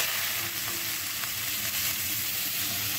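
Chopped onion frying in oil with black cumin and dried red chilli, a constant close sizzle with faint stirring underneath, steady and unbroken, no voices.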